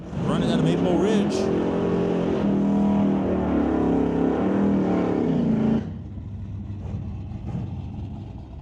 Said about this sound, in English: So Rob Getz will bring out the 2024 Ford F-150 out of Kamloops alongside Ryan Ledre with his 1971 Chevelle